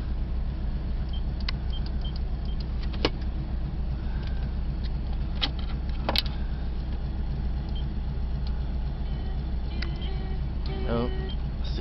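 A 1987 Chevy G20 conversion van engine idles steadily without throttle, a low continuous rumble with a few faint clicks and knocks on top, while people talk quietly nearby.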